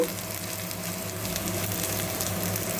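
Onion and garlic fry in a pan with a steady, close sizzle, continuous hissing and crackling throughout and no talking.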